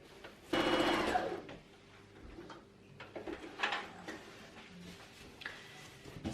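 A sewing machine stitches fabric pieces for a stair tidy bag, a short loud whirring run near the start followed by quieter intermittent bursts and handling clicks.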